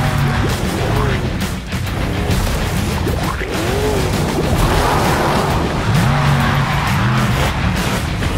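A Hot Wheels monster truck brakes hard on an island course with mud, its tires squealing in several wavering bursts over a loud, continuous engine roar.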